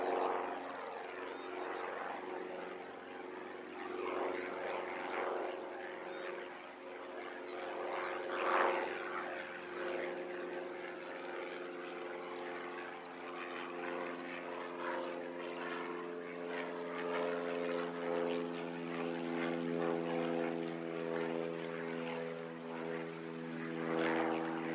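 A small propeller plane takes off at Christchurch Airport, its steady droning engine hum holding at a fairly constant level throughout, heard from a distance with no talk.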